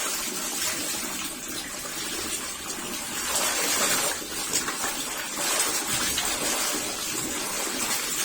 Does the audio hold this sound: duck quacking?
no